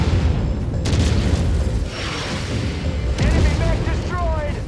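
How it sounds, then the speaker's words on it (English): An enemy mech blows up in MechWarrior amid heavy rolling booms and thunderous blasts, a dense, loud low roar that swells twice with crackling debris on top. "Enemy mech destroyed."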